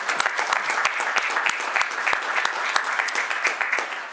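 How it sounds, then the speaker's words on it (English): A city council meeting audience gives warm applause to welcome a newly sworn-in council member, with many hands clapping in a dense, moderately loud patter that continues evenly throughout. "warm applause"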